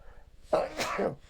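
A single sharp human sneeze, close and fairly loud, with a brief intake of breath before the burst and no talking over it.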